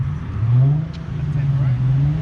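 Modified exhaust on a car at an Infiniti Q50/Q60 meet, a low throaty engine note that swells into a rev and holds close by, with people talking nearby.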